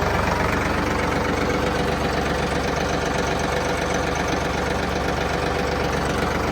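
A Ford 3600 tractor engine idles steadily nearby, a low continuous rumble with a knocking, vibrating throb throughout and no talking.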